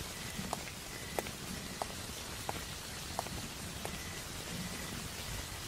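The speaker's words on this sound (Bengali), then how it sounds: "বৃষ্টির শব্দ আর বিজু দাদুর পদচারণের টুপটাপ ধ্বনি মিলেমিশে যেন একটা সুর তৈরি করছে" Steady rain patters on surfaces in a cartoon scene while an old man's footsteps tap along at an even pace, soft and moderately close under the continuous downpour.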